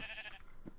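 A sheep bleats in Minecraft, one short blocky bleat rising near the end of a brief moment over quiet game ambience.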